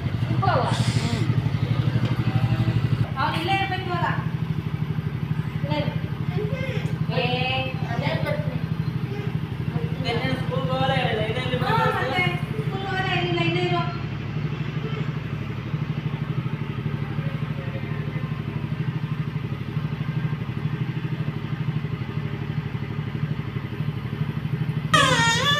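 Scooter engine idling close by, a steady low drone running the whole time beneath stretches of conversation.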